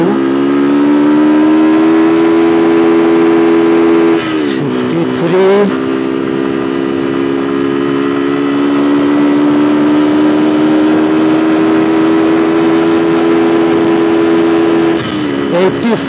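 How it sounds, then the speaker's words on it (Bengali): A Yamaha R15 motorcycle engine pulls hard from a standstill through the gears, a loud close steady drone with two brief dips and re-rises where gear shifts break the tone. "বাইকটা একবার 0 থেকে 60 স্পিডটা দেখে দিই কতক্ষণে ওঠে"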